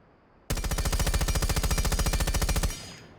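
Fuze's gun in Rainbow Six Siege, fired with no barrel attachment, lets off one continuous full-auto burst of rapid, evenly spaced shots lasting a little over two seconds, loud and alone.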